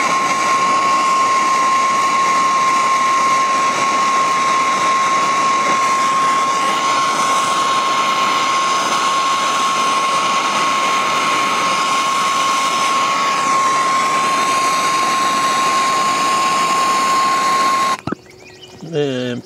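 A torch heats lead-free solder on a copper water line joint in a garden: a steady, close, loud roaring hiss that holds for the whole span, then cuts off abruptly near the end.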